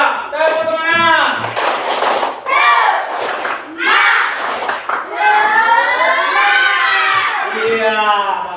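A group of schoolchildren in a classroom shouts a tepuk semangat clap chant together, their loud, rhythmic voices rising in bursts mixed with sharp clapping slaps, close and energetic.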